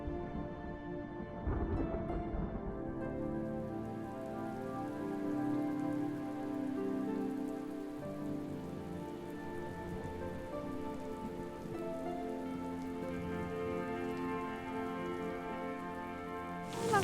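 Steady rain falls on surfaces in a continuous close hiss with dense patter, holding at an even level throughout with no voices.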